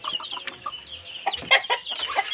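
Chickens in a poultry farm shed during hot weather, several birds clucking and squawking close by in an irregular, overlapping chatter, with a louder cluster of calls midway.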